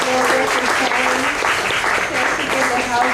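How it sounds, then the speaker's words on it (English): Audience applause rings out at a literary awards celebration, dense and loud continuous clapping from a crowd filling the whole moment, with a voice faintly underneath. "Can we have another round of applause?"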